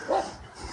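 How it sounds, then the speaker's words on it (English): A single brief dog bark at a weight pull show, fairly close and alone. "They're just barking."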